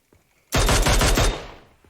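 Automatic gunfire in PUBG Mobile, a single loud, close burst of rapid shots lasting under a second, then a short fading echo.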